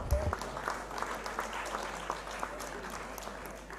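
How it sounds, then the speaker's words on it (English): Audience giving a round of applause at an international conference plenary session, faint diffuse clapping spread evenly throughout, heard at a distance in a large hall after a brief thump at the start. "So let's have a round of applause for her."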